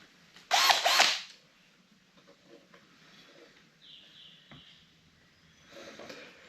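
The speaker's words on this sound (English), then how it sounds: "I'm going to drill a few more holes" A drill boring a hole in the rear window panel of a Series Land Rover, one short sharp whirring burst followed by quiet handling and faint mechanical clicks.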